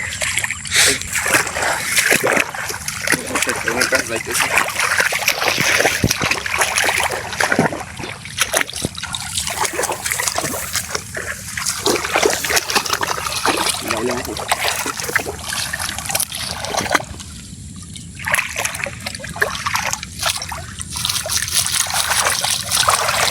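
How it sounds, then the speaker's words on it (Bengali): A China ring net fish trap is hauled up from water while catching shrimp and baila fish, with repeated loud splashes, dribbles and sloshing over roughly twenty seconds as voices talk nearby. "এই যে তো আপনাদেরকে এখন অট্টং উঠানো দেখাবো"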